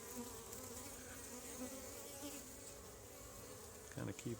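Honey bees buzz steadily around an open hive during an inspection, a dense continuous drone close by, with a few brief louder rustles near the end and no talking.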